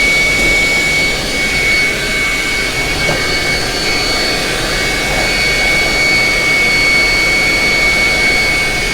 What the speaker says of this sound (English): we're going to vacuum that grate, and then we're going to pull the grate out and vacuum the bottom area.